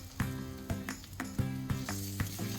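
Onions sizzling in a pan for a South Indian fish curry, interrupted by regular sharp clanks of a utensil stirring, about one every half second.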